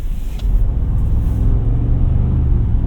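A 2026 Ford F-150 Tremor pickup's deep engine rumble idles and revs close by, a loud, steady low throb with a slight rise in intensity.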